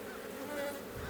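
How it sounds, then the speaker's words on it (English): Bee buzzing inside a beekeeping suit during a late-season hive check before winter, a close, continuous droning hum with a slightly wavering pitch, fairly faint, with no talking. "there's one flying around in my suit"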